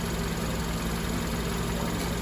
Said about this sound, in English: So right now the car is idling